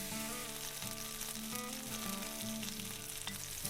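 Pork belly fries in hot sunflower oil in a pan while being turned, giving a soft, even crackling sizzle with occasional faint stirring movements, heard close but at low volume.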